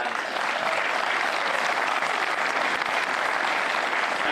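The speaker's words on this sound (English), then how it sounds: "So I'd just like to give Kinnegad a round of applause." A crowd at a Gaelic football final gives Kinnegad steady, dense applause that holds at an even level throughout, with a faint voice under it.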